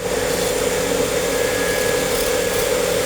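A power tool grinds steadily at cast acrylic plastic, scooping out material for a wand handle, with a continuous close whirring hum and gritty hiss and no pauses.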